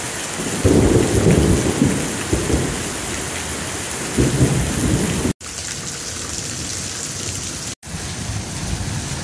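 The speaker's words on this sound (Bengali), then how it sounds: "এখান থেকে বৃষ্টি দেখতেছি আর অনেক জোরে জোরে বাজ পড়তেছে" Heavy rain pours down steadily, heard from a rooftop, with loud rolling thunder rumbling through the first half over the constant hiss of the downpour.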